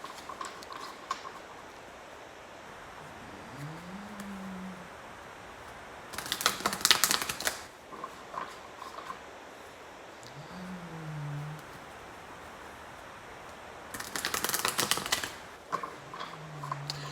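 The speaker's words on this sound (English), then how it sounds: "as I'm shuffling the cards" Tarot cards are shuffled in two separate short flurries of crisp, rapid riffling, close and fairly loud against an otherwise quiet room.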